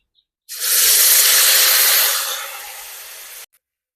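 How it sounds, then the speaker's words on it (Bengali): Ginger, garlic and green chilli paste hits a hot pan for a Bengali mocha ghonto, bursting into a loud, close hiss that starts abruptly, holds for about three seconds, eases slightly, then cuts off sharply. "আদা রসুন কাঁচা লঙ্কা বাটা আমি দিয়ে দিয়েছি এবার এটা একটুখানি কষিয়ে নেবো"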